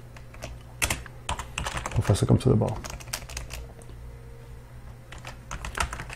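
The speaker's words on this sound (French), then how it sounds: "Clavier français encore, évidemment." Fingers tap rapidly on a French-layout computer keyboard nearby, with bursts of clustered keystrokes and short pauses. Someone talks quietly over the typing.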